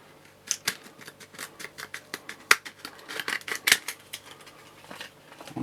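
Scissors snip a small piece off a perfume tester for a doll-sized shopping bag craft, giving a series of sharp, close, irregular clicks and snips with quiet gaps between them.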